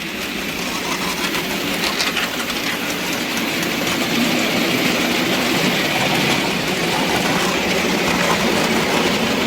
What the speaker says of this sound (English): you should be able to hear the flanges rubbing on this curve here